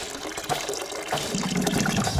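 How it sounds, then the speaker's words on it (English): Orange juice poured into a bottle already holding orange slices, a gurgling liquid stream that starts thin and thickens into a fuller glugging fill as the bottle takes it, close up with no talk. "now we take the orange juice and pour it inside as well"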